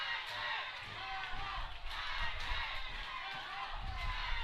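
Visiting fans at a high school baseball game cheer and shout from the stands, a noisy, continuous crowd roar heard from a distance that swells and dips throughout.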